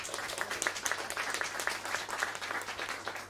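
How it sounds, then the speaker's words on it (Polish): Audience applause at a folk music album-of-the-year award gala concert, a steady dense crackle of many hands clapping at moderate volume throughout. "oraz Witowi Wilczyńskiemu, dzięki którym, wielkie brawa"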